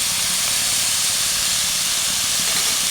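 Onions and green chillies sauté in a pan with a loud, continuous sizzling hiss that stays even and close throughout.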